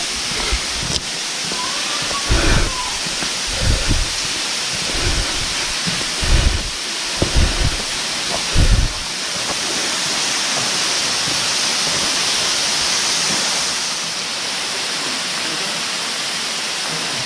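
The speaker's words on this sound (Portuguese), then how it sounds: "com uma cachoeira." Steady broadband rushing of a waterfall in a grotto with a chapel in Doutor Ricardo, Rio Grande do Sul, with several low thumping bumps in the first half, likely footsteps or handling noise.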